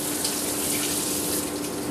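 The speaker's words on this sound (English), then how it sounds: "I'm going to turn my sink on with some cold water" Cold water runs from a kitchen sink tap in a steady, even, close-up rush for the whole two seconds, with no talking.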